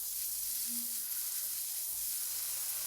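Minced garlic sizzles with meat and pasta in a pan over low heat, giving a steady, soft, even hiss throughout.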